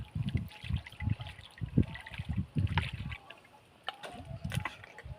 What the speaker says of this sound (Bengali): একটু বন্ধুদেরকে ভালো করে জলে ধুয়ে দেখাও মাছগুলো